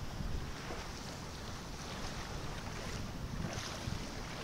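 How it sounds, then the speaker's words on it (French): Continuous wash of water and waves on a river beach with heavy wind buffeting the microphone, a steady rushing roar with no voices. "J'écoute le son des vagues, je me laisse bercer par le son des vagues."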